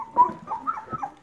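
Airedale Terrier puppies whimper and yip softly in a few short, close, high-pitched bursts, with no one talking over them.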